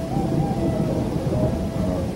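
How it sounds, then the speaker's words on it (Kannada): Heavy downpour with a rumble of thunder rolls continuously at night, a dense steady roar of rain lasting the whole moment with no other voices. "ಮಳೆಯ ವಿಪರೀತ ಮಳೆಯಿಂದಾಗಿ"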